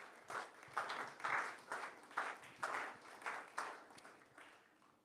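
A church congregation claps in a round of applause, steady rhythmic clapping from many hands swelling and fading, somewhat distant and moderately quiet, with no speech over it.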